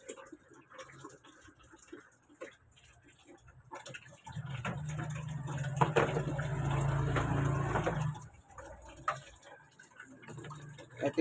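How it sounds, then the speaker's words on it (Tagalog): A faucet with weak water pressure in Tondo, Manila, is turned on and runs for about four seconds, a soft steady gush that then stops, surrounded by quiet ticking and small handling noises. "O, bubuksan ko muna po yung gripo."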